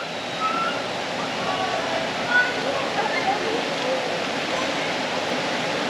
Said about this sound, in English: and here comes the waves